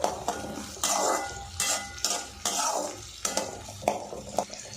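Garlic and small onions are sautéed in oil for a dry fish curry, with a spatula scraping and tapping the pan in rhythmic strokes over a light sizzle, heard up close with no talk.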